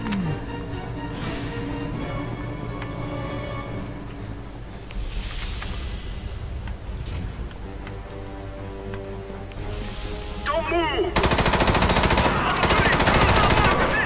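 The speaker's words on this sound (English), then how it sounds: "Don't move while I shoot you." Machine-gun fire from the video game Front Mission Evolved rattles steadily under game music and effects, growing louder and denser near the end as sustained automatic bursts take over.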